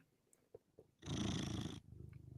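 A cat purrs loudly and steadily up close for under a second, a rough rumbling drone, preceded and followed by soft faint rustles.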